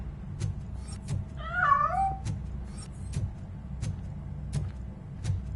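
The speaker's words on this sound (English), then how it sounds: "That cat must be hiding inside." A cat in RoboCop: Rogue City lets out one wavering meow as it escapes, mid-volume against a low rumbling game background with soft clicks.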